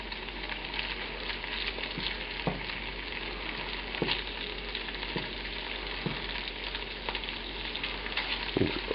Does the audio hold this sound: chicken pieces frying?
yes